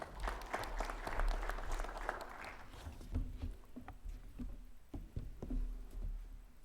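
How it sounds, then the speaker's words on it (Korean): Applause from the audience at a university president's inauguration ceremony at Yongin University, dense at first and then thinning into scattered, fading claps in a large hall. "학교법인 단호학원 김영우 이사장님께 큰 박수 부탁드립니다."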